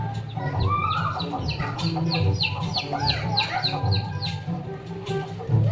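Chickens cluck at a home while being fed, with repeated short clucks and chirps close by over a low background rumble.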